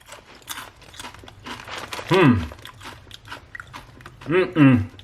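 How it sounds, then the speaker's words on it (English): Zapps potato chips crunch loudly in a close-up mouth, with crisp bites and chewing scattered across the moment while a person speaks in between. "that crunch, so good."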